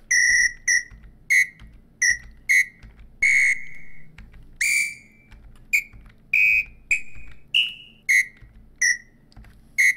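Whistle samples triggered in music software, a string of short, shrill whistle toots and a few longer warbling ones, loud and close, played one after another in an uneven rhythm with brief silences between.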